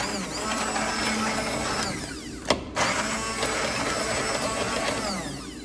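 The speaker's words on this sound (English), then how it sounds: "we're going to hand blend everything with the hand blender" A hand blender purées butter chicken gravy, giving a steady, loud motor whine that runs throughout with a brief clatter and dip partway through.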